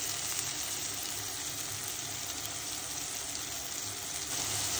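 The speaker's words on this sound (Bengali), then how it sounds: "2 মিনিট ঢেকে মশলা একটু কষিয়ে নিব।" Spices frying in oil in a covered pan give a steady, even sizzle that holds at the same low level throughout, with no voices.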